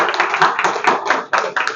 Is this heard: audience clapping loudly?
yes